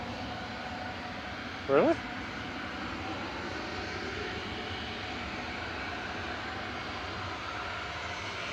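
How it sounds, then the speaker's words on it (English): A Ryanair Boeing 737-800 jet departs Manchester Airport as a steady, distant broad roar that stays level throughout, broken once by a brief spoken word. "Ryanair 3088 over to Gothenburg in Sweden."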